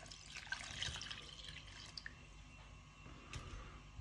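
Faint, soft trickle of water being poured into tomato sauce while preparing a layered cabbage dish, a quiet, uneven splashing stream heard alone.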